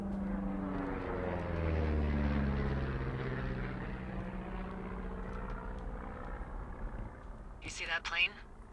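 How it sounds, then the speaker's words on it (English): In the video game Firewatch, a propeller airplane passes overhead, its drone swelling and sweeping in pitch as it flies by, then fading, with a brief burst of other sound near the end. "You see that plane?"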